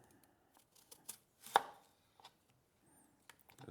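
Sharp knife strokes chop through fennel on a board, a few scattered cuts with one crisp, louder split in the middle, close and clear against quiet.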